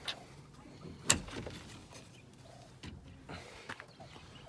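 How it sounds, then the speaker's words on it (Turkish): Quails in a village coop, bedded over wood ash, give faint short calls against a quiet background, with one sharp click partway through. "Bıldırcınlarımız burada."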